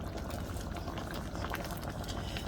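Egusi soup with spinach boiling in a pot, a close, continuous bubbling and gurgling of thick liquid that stays steady from start to finish.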